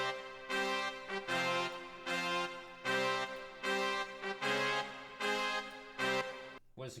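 A solo brass part from a trap beat made in FL Studio plays loud, rhythmic chord stabs in short sustained blasts with brief gaps, unaccompanied.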